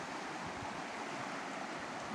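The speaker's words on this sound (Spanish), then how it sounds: "aquí el río con un caudal bastante moderado en esta población del Espinal." A river in the Espinal area of Oaxaca's Mixteca region, running at a moderate flow after nearly a week of rain, gives off a steady, even rush of water that continues without a break, with no voices.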